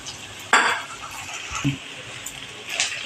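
Potato and sago being stirred and sautéed in ghee in a pan, with a few scraping spoon strokes and light clinks of a utensil against the cookware, a faint sizzle underneath and no talking.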